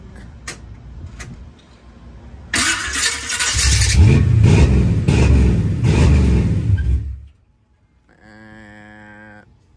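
A car engine revs hard for several seconds, then the throttle is released and it drops away, with a brief mechanical whir and warbling tone afterward; loud and close.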